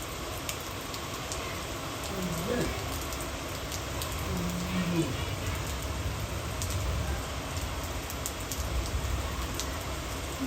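First monsoon rain pattering steadily, a continuous wash of drops on surfaces with faint background voices and sounds underneath.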